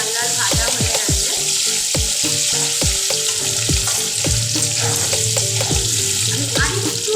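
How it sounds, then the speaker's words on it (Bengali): Potatoes fry noisily in hot oil in a home kitchen pan, the constant crackling sizzle broken by a rapid series of spatula scrapes and taps as they are stirred and turned. "আর একটুখানি লাল করে ভেজে দিব আলুটাকে।"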